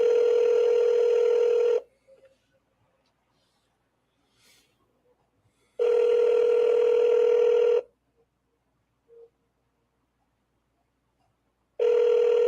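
Automated phone line tones: three long, steady beeps at one pitch, each lasting about two seconds and separated by roughly four seconds of near silence, loud and clean.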